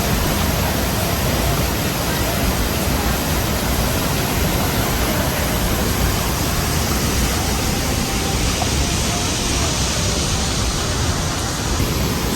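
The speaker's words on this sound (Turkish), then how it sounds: "Şelale." A waterfall roars steadily and loudly, a dense unbroken rush of falling water that fills the whole clip without a break.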